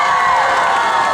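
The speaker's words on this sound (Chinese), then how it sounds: "我们再给他一点热情的尖叫声加掌声" Concert audience at an outdoor Qixi evening music show in Daxi, Taoyuan, cheering and screaming with applause, a loud dense crowd roar held steady throughout.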